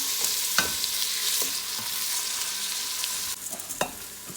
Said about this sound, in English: I'm gonna go in there with my onions and we're gonna saute the onions a little